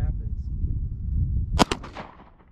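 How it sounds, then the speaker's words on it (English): A single sharp 9mm full metal jacket round fired from a Glock pistol cracks out close and loud, rising over a low rumbling background and trailing off in a few quick echoing decays. "I'm gonna shoot one more time."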